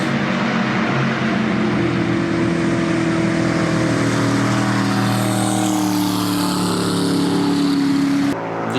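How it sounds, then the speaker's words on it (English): V8 twin-turbo water ski race boats roar along a river, a loud continuous engine drone with shifting pitch as they pass, no voices. "massive V8s and twin turbos rumbling through the hills"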